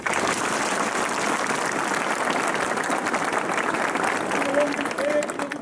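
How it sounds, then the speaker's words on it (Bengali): Sustained applause from an audience at a Bangladesh National Cadet Corps gathering, dense steady clapping filling the whole stretch at even loudness, with some speech-like sounds faintly mixed in near the end. "করতালির মাধ্যমে আমরা অভিনন্দন জানাতে পারি"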